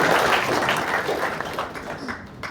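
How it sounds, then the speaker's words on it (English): Audience applause after a speech on management, a dense wash of clapping that starts strong and slowly tapers off over a few seconds. "let's give a good big round of applause."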